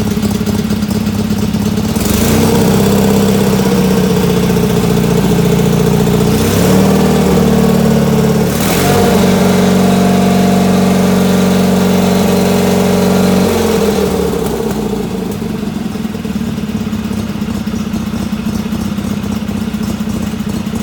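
A 1979 GT19.9 with a B48G engine idles loudly and steadily with a lopey, uneven beat, briefly revving a couple of times before settling back, close up with no talking.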